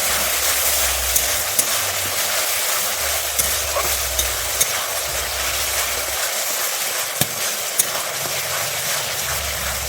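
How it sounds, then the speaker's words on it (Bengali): Masala with pointed gourd is stirred in a pan, giving a steady sizzle with scattered sharp clicks of the spoon and a low rumble underneath. "এভাবে আমি নেড়ে নেবো যতক্ষণ না তেল বেরোয় আমার মশলা থেকে"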